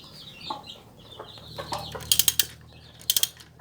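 Ratchet socket wrench from a 24-piece socket set being turned, giving quick bursts of sharp metallic clicks close by, three or four clicks per burst with short pauses between them, amid quieter handling noise.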